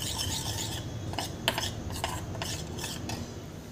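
A spoon scrapes and rubs around a bowl, mixing ground black pepper into a paste, steady close rasping strokes with a few sharper scrapes and no talking.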